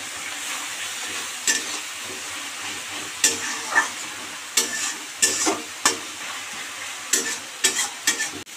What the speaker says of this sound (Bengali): এবার আমরা এটা ততক্ষণ নাড়ব যতক্ষণ না কাঁচা গন্ধটা উড়ে যায়